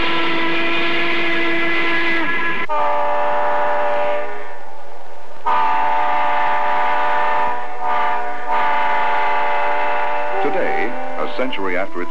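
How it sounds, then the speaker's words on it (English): Steam locomotive of the Santa Fe Railway sounding its whistle in long, loud sustained blasts with rich harmonic tones, several held notes broken by short pauses, while a voice talks over the top. "the call for adventure was the kaleidoscope of steam locomotive sounds"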